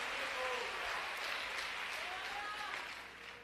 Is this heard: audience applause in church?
yes